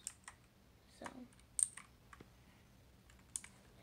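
Keys pressed on a Pictek mechanical gaming keyboard, a handful of sharp, close clicks spaced irregularly over quiet room tone.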